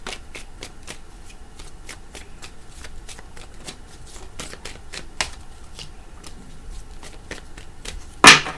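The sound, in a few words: shuffling a tarot card deck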